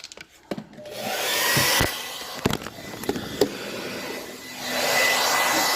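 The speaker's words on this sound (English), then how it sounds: "It's a blow dryer." A steady broadband whoosh of a blow dryer runs through most of the clip, interrupted by a few sharp clicks and knocks, then swelling again near the end.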